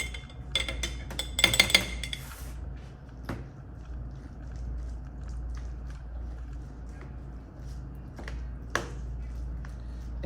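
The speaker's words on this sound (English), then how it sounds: "And now I can mix it." Tzatziki is stirred with a utensil in a bowl, giving quick clinking and scraping at first, then softer intermittent taps and scrapes against a quiet room hum.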